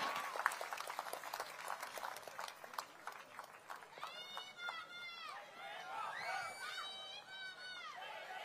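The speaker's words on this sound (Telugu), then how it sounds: "ఈయన్ని మనసు గట్టిగా చప్పట్లు కొట్టి అందరూ అభినందించండి" An audience claps at a public event honouring a donor to Anna Canteen, with a rapid patter of applause first and then a voice speaking over the fading crowd.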